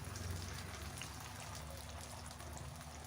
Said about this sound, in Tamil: சேர்த்துட்டு ஸ்டவ்வை மீடியம் ஃப்ளேம்லேயே வச்சு இதை ஃப்ரை பண்ணிக்கணும்.